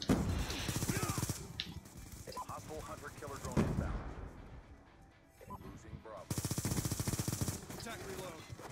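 Sustained automatic gunfire in a Black Ops II multiplayer match, with rapid bursts of machine gun shots near and loud, pausing and returning, mixed with game sounds and occasional talk.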